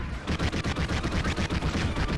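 Rapid, evenly spaced bursts of heavy gunfire from the Ripper weapon pound at turrets in the video game Raze's Hell, loud and continuous throughout with no speech.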